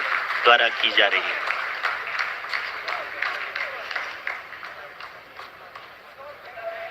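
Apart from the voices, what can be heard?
scientists applauding after lander descent phase completes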